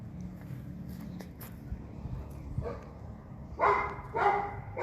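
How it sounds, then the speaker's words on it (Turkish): A pitbull in an enclosed area barks twice in quick succession near the end, loud and fairly close, after a stretch of quiet background rumble. "Galiba kapalı alana koymuşlar. Havlıyor. Pitbull galiba."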